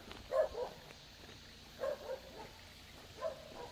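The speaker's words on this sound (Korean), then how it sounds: "제가 저 떠드니까 동네 개가 짖습니다, 지금." A village dog barks faintly in the distance in a quiet rural hamlet in Gyeongsang province, giving three short, far-off bursts spaced a second or so apart.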